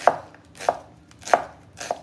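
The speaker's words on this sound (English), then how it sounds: "I'm chopping the onions very thin" A knife chops onions very thin on a cutting board, four crisp, evenly spaced strikes about two-thirds of a second apart, close and clear with no talking.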